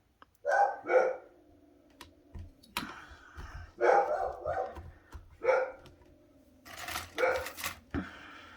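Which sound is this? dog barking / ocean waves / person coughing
dog barking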